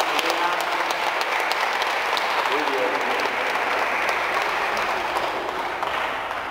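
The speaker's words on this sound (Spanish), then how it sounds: "Le damos un aplauso." Applause from guests at a wedding, a sustained even burst of clapping from a crowd with faint voices mixed in.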